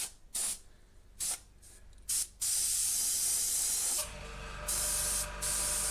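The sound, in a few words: airbrush compressor running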